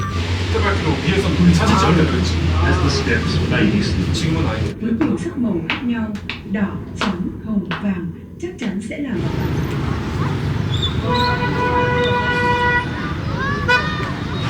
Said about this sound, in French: J'espère que vous nous entendez bien parce que la circulation à Sapa, c'est digne du Vietnam